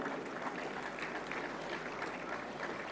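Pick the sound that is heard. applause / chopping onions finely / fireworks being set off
applause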